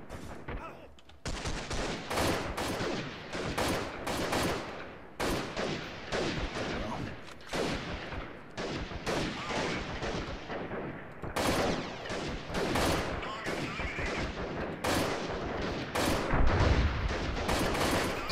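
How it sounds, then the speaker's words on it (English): Grenade explosions and heavy gunfire in the guerrilla warfare video game Freeman, a loud, dense, continuous barrage of rapid shots and blasts with hardly any pause. "Somebody's throwing grenades"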